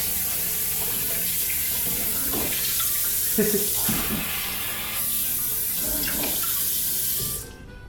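Water streams steadily from a kitchen tap as cooking utensils are rinsed in the sink, a loud, constant splashing rush with brief clatters of utensils, stopping abruptly at the end.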